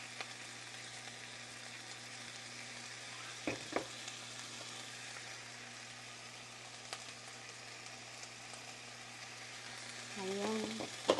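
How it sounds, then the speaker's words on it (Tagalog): Chicken feet sautéing in a pan for Filipino adobo, a steady low sizzle with a few stirring clatters and a louder burst near the end. "Igisa lang natin siya ng konti."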